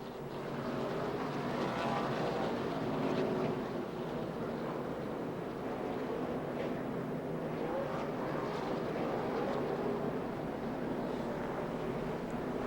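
Steady, dense engine roar of NASCAR Cup Series stock cars running together in lap traffic, heard from in-car, a continuous mechanical drone with no pauses or voices.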